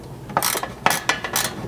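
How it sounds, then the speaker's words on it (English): Quick ratcheting clicks from a 5/32 hex ratchet tightening bolts on a modular drawer floor system in a 100 Series Land Cruiser, several short close bursts with brief pauses between. "you can tighten that up with your 5/32 hex"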